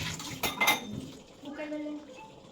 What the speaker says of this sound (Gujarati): આપણે હલાઈ નાખવાનું